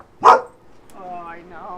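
A dog named Barley lets out a single loud, close bark, followed by someone talking in a calm indoor setting.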